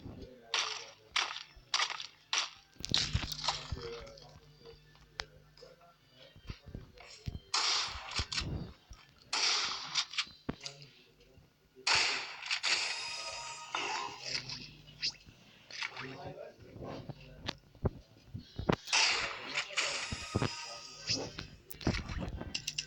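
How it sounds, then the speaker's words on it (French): Plasma machine gun fire in a video game, rapid bursts of shots that come and go in loud clusters with brief pauses, close and harsh throughout. "Ah, une mitraillette plasma, enfin un fusil."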